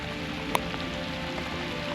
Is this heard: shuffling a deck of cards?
no